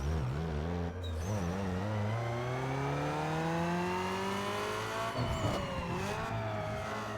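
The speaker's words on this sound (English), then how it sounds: "let's quickly do a dyno pull so you guys can see how strong this car is" A Peugeot 206 2.0L four-cylinder in Need for Speed Underground 2 revs on a dyno, its engine note climbing steadily in pitch through the gears with a brief shift dip, loud and continuous, then settling back before a final burst.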